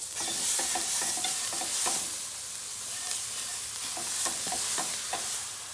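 Vegetables sizzle steadily in a nicely browned roux for chicken gumbo while a spoon stirs them, with repeated scraping strokes marking a loose rhythm over the continuous hiss.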